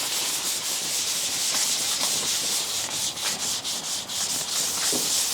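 Sandpaper on a sanding block rubs steadily against the body panel of a 1987 Mazda RX7, a close, continuous rasping with rhythmic back-and-forth strokes.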